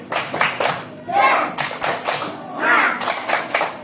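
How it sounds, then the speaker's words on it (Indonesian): An elementary school class performs a rhythmic spirit clap, sharp patterned bursts of many hands in quick groups, alternating with children chanting together in between. "Tepuk semangat."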